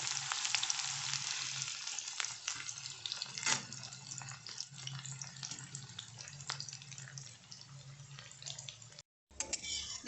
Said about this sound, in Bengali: ওই পেঁয়াজ থেকে খানিকটা আমি বেরেস্তা করে নিচ্ছি। তার জন্য আমি কড়াইতে সর্ষের তেল গরম করেছি।